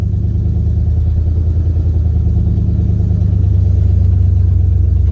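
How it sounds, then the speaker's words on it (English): A Chevy Suburban's 353 engine runs at a steady, loud idle after a cold start in freezing weather with the choke pulled, a low rumbling drone heard close and without talk. "And here she is, just fire right up like there was no tomorrow."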